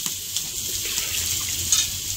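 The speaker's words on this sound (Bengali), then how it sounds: "আলু দিয়ে ভাজা করতেছি ওখানে" Steady hissing sizzle of potatoes frying in a pan, a continuous bright crackle with a few louder pops, no voices.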